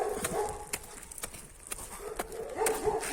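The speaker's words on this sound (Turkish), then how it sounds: "ha ileride de köpekler var arkadaşlar" Several distant street dogs bark and yip in irregular bursts, faint and overlapping, with sharp clicks scattered between them.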